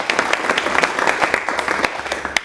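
A short burst of applause from a small audience at a talk in Heidelberg, brisk scattered claps filling the whole moment.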